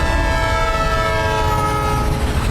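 A cartoon train rolls past in a steady, loud rush with sustained horn-like tones held over a low rumble, continuous for a few seconds without any talk.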